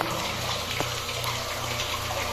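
Water leaking from a pipe joint in a deep well setup, a steady close hiss and gush of spraying water running continuously.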